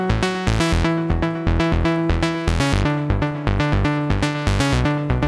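A free preset from a simple synthesizer plays a bright, buzzy, harmonically rich repeating pattern with regular punchy rhythmic notes and a steady low bass tone, clear and alone.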